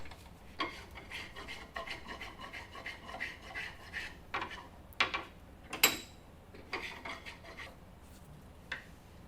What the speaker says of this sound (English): it's basically just the process of working an area, then moving it in the vise and working another area